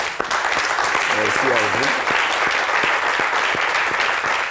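An audience applauds the liturgical choir of Abidjan Plateau, Les Béatitudes, at an Easter church service; steady clapping fills the whole moment while a voice speaks briefly over it.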